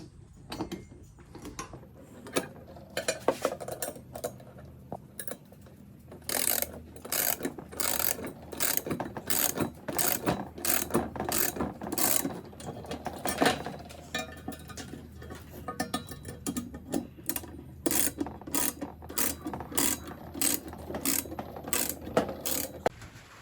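Bolts tightened on an awning bracket mounted beside a rooftop tent: a long run of rapid, loud ratchet clicks in quick bursts with short pauses, close by, no talking.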